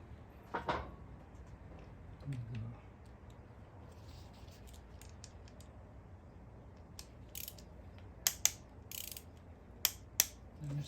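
Torque wrench tightening bolts on the engine of a 2013 Volkswagen GTI MK6, heard as a few faint ratcheting clicks and sharp metallic snaps, scattered and sparse, growing more frequent toward the end over a quiet background.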